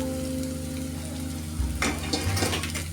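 Chopped ginger, dried red chillies and green chillies sizzle and fry in a pan while being stirred, a steady crackle with louder scraping stir strokes near the end, close up and alone.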